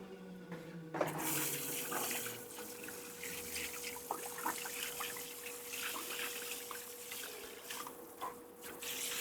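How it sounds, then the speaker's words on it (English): Water runs steadily from a tank as it drains automatically, a continuous trickling, splashing flow close by with a faint steady hum beneath it and no talking. "It's automatically draining the tank."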